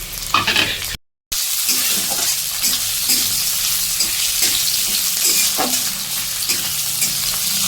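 Onions fry and sizzle steadily in hot oil in a home kitchen while being stirred for a Kolkata-style chicken dum biryani, with scraping strokes repeating through the hiss. One brief silent gap breaks the otherwise continuous sound.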